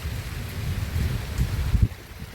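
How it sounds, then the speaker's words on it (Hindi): Heavy rain pours down over vegetable beds with an okra crop, a steady close wash of drops over a low rumbling undertone, fairly quiet overall. "ये देखिए कितनी ज़्यादा बारिश आ रही है इस टाइम"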